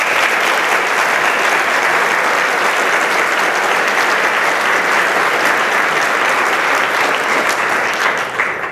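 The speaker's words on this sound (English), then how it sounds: "Round of applause for us." Sustained applause from a large audience at a Foreign Service anniversary dinner, dense and even clapping that stays loud for several seconds with no talk over it.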